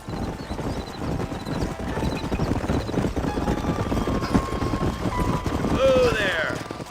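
In the video game Red Dead Redemption, horse hooves clip-clop in a steady, busy rhythm over outdoor ambience, with a faint whinny-like cry near the end.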